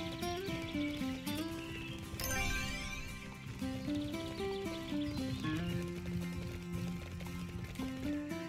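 Horse hooves clip-clop steadily while a horse neighs in the Bibi & Tina video game, mixed over cheerful game music with no talking.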